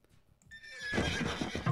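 In Age of Empires II, a newly trained horse rider unit sounds off with a single whinny over clip-clopping hooves, preceded by faint game sounds and ending in a full, close neigh.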